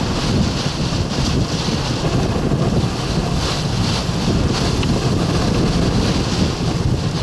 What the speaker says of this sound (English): That's another solid gust.